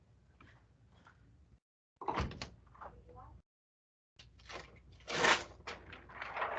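Handling of a door, with scraping, rattling and knocking in several bursts separated by short silences, close and fairly quiet.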